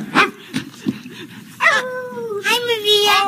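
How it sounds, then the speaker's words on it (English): A puppet dog on a children's street set yips and whimpers in a few short, close bursts, with a voice speaking between and over the sounds. "Oh, I was just telling Barkley in Spanish what a cute dog I think he is."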